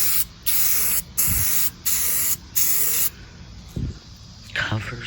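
Metallic gold spray paint hisses from an aerosol can onto a vintage figurine in five short, even bursts, close and loud, separated by brief pauses, followed by light handling sounds.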